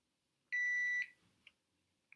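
HairMax laser hair comb giving a single clear electronic beep lasting about half a second, close and clean, followed by a couple of faint clicks in an otherwise quiet room.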